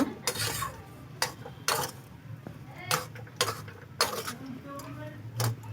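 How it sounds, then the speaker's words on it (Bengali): Semolina and sugar stirred steadily in a pan for a semolina pulao, a spoon scraping and clinking against the metal in irregular strokes, close and moderately loud over a low background hum. "আমি চিনিগুলো দেওয়ার পরে আরও পাঁচ মিনিট এইভাবে অনবরত আমি নাড়তে থাকব"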